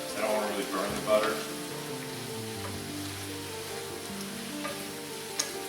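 Onion and red pepper sautéing in butter over moderate heat for a spicy shrimp pasta, a low, steady sizzle with faint crackles and a couple of brief louder bumps.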